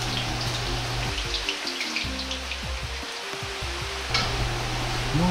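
Potatoes fry in oil over low heat with a soft, continuous sizzle and scattered crackles, joined by a low, steady hum and a few clinks and stirring noises.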